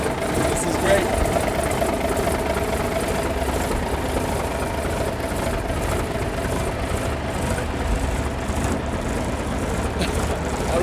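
A 1980 Freightliner truck engine idles in a steady, low, even rumble close by, with a voice talking over it throughout.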